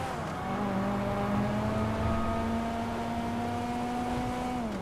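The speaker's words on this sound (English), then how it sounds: "This car kind of nice, no cap." Car engine running steadily in Grand Theft Auto, a continuous mid-loudness drone holding pitch with a slight rise and a dip near the end, no voices.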